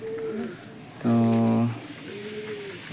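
Pigeons coo with soft rolling calls, one louder, steadier burst in the middle between fainter coos, while someone speaks briefly nearby.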